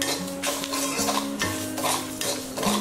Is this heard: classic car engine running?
no